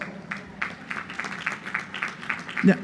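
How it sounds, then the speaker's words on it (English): Scattered applause from graduates at a college commencement ceremony, sparse separate claps pattering unevenly and fairly faint, with a low murmur beneath and one louder thump near the end. "Give yourselves a big round of applause."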